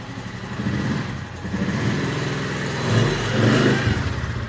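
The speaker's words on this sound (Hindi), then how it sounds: "अब मोटरसाइकिल होने लगी अंदर।" A motorcycle engine being brought indoors, running steadily with a mid-pitched rumble and a couple of louder revs near the end, close by and with no talk over it.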